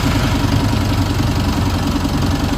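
A second-generation Mitsubishi Montero diesel engine idles steadily after its sticking, carbon-fouled turbo was cleaned, giving a continuous close, even mechanical rumble with a fine knocking pulse and no talk.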